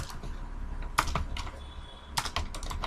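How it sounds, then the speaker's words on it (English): Typing on a computer keyboard in short bursts of key clicks separated by pauses, close and fairly quiet, with no voices. "I'm going to type"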